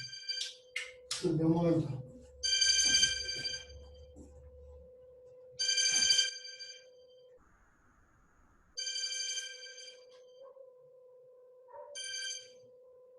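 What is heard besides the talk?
mobile phone ringing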